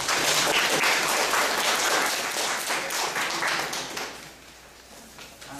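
An audience at a talk event applauds to welcome a musician: a loud, dense round of clapping that holds for several seconds and then thins and fades toward the end.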